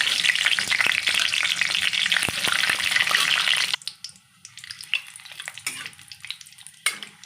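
Cumin, dried red chillies and bay leaves sizzle loudly in hot oil for a Bengali cabbage dish, a dense steady crackle that suddenly drops to a quieter, sparser spitting with occasional stirring clicks.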